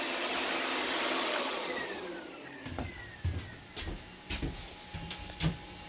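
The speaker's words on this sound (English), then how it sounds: "Bike's fan is running." The cooling fan on a 2020 Yamaha Raptor 700 ATV gives a steady broad whoosh that fades after a few seconds, followed by scattered light clicks and knocks.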